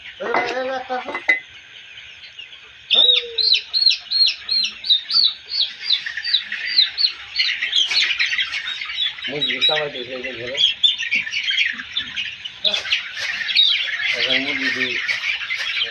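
A flock of 35-day-old layer chickens on a farm cheeps and squawks continuously while being vaccinated against fowl pox. The calls are loud, dense and close, and brief voices murmur underneath.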